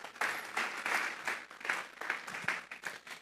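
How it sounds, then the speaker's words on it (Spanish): A church congregation claps in rhythmic, pulsing waves of applause during a worship service, the clapping swelling and fading in regular surges at moderate loudness. "Vamos a darle un fuerte aplauso pues al Señor."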